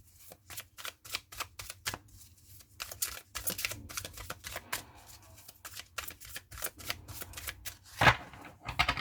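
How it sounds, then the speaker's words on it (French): A deck of tarot cards being shuffled by hand, a long run of quick, crisp riffling flicks and slaps at close range, uneven in rhythm, with no voices. "le temps que je mélange les cartes et que je fasse le tirage"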